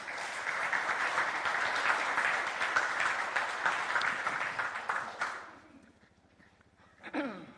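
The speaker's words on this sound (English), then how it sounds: "Round of applause." Applause from the audience at a school governing board meeting, a loud steady round of clapping that stops abruptly partway through, followed by a quiet room and a brief voice.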